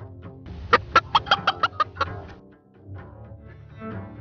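A chicken gives a rapid series of about seven sharp, evenly spaced clucks, close and clear, then fainter murmuring clucks trail off.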